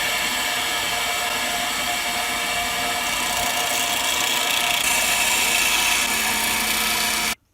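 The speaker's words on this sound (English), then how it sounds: "I drilled a 5 mm hole in this piece of scrap to check the fit." A drill bores a 5 mm hole through a piece of scrap wood, giving a steady, loud whining drone with grinding texture that runs continuously for several seconds before stopping abruptly.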